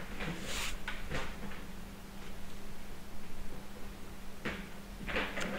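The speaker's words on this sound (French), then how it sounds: "Désolée pour le bruit, c'est mon chat qui est en train de s'éclater tout seul." A cat playing wildly indoors and knocking things about: scattered bumps, thuds and rattles over a faint steady background hum, close but fairly quiet, with a few sharp knocks near the start and end.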